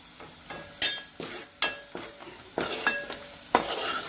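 Spoon stirring chopped capsicum with red chili powder frying in oil in a pan, with a few sharp scraping strokes over a steady soft sizzle, close and fairly quiet.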